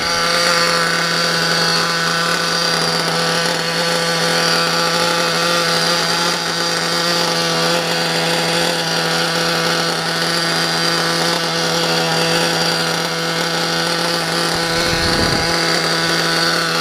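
A small nitro RC engine, a Picco Boost, drones steadily at a high, buzzing pitch for the whole stretch, loud and close, with no break in its even idle.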